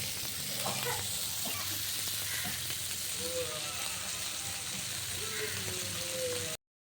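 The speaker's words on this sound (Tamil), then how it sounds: "இப்போ மீன் வறுத்துட்டு இருக்கேன்" Sankara fish frying in a pan, a dense continuous sizzle heard up close, with light scraping and clinking of utensils scattered through it.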